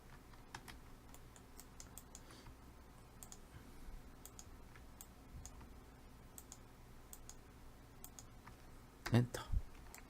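Soft computer keyboard typing with scattered key clicks, then a louder cluster of presses near the end as the Enter key is struck.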